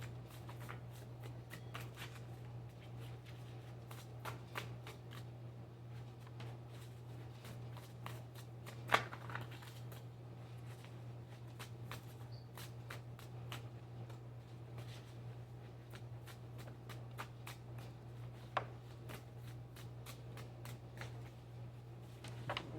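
Soft, continuous riffling and slapping of tarot cards being shuffled, fairly close, with a steady low hum underneath and no talking.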